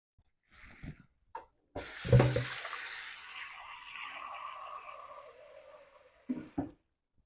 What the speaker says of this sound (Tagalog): Dadagdagan ko siya ng tubig.